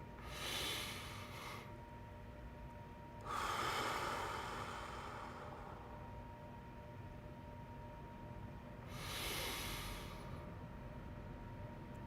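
Slow, deep breaths pushed out through the mouth as part of a breathing exercise, heard as three soft, airy exhalations spaced several seconds apart over a quiet room hum.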